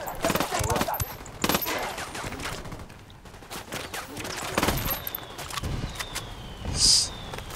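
Gunfire in the video game Ghost Recon Wildlands: repeated rapid bursts and sharp cracks scattered across the stretch, fairly close and loud, with faint voices now and then.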